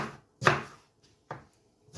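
Knife chopping an onion on a board for chicken and shrimp paella, heard as a few sharp, separate cuts spaced apart, close and fairly loud with quiet gaps between.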